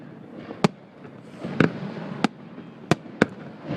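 Fireworks burst outdoors in five sharp, separate bangs spread over a few seconds, each one loud and crisp against a low background rumble, with no talk.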